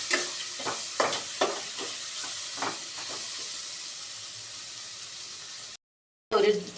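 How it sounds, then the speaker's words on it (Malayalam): A spiced curry mixture with a little coriander powder is stirred in a hot pan. Several rhythmic scraping strokes ride over a steady close sizzle, and the sound drops out briefly near the end. "നല്ലോണം മിക്സ് ചെയ്ത് കൊടുക്കാം."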